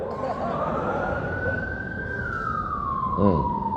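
A human voice imitates an ambulance siren with a long, sustained wail that slowly rises and then falls, heard over a murmuring background during a mosque sermon.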